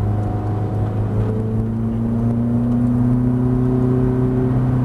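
A Ferrari F430 engine pulls hard on a race track, heard from inside the car as a loud, sustained drone whose pitch rises steadily while the driver holds the throttle.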